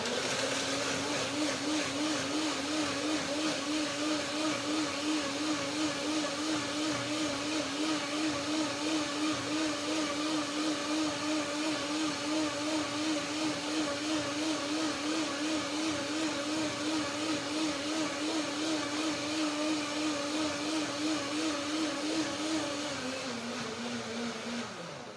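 Kitchen blender whirring through cashew cream with kiwi, pear and grapes, a steady motor hum with a slightly wavering pitch for about twenty seconds before winding down at the end, close and continuous.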